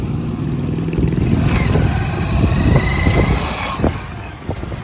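Several motorcycles gathered together in a farm field run their engines nearby, a loud continuous rumble with rising revs and some clattering, no talk.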